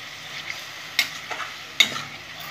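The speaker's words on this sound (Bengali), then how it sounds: "মশলাটা ভালো করে কষে নেব" Masala for boneless chicken sizzles as it fries in a pan, with two sharp spatula scrapes and stirs cutting through the steady hiss.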